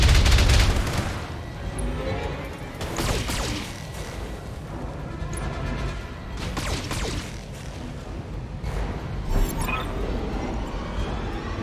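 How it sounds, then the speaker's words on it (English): Mech weapons firing in the BattleTech video game, rapid volleys of gunfire and booming impacts with whooshing projectiles, several loud bursts spread across the stretch over a dense battle background. "It's unlikely that we hit, but we have to shoot anyway."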